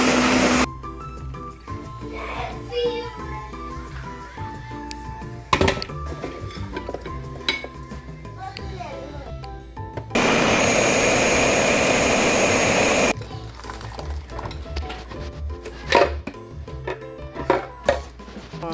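A kitchen blender runs for about three seconds in the middle, whirring loudly as it blends fruit for gummies. Clattering, handling noises and kitchen sounds come before and after, with no talking.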